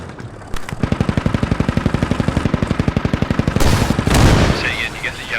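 Rapid, evenly spaced automatic gunfire in the Squad military shooter, a long loud rattling burst followed by a heavier rocket blast and rumble, with radio chatter faintly underneath.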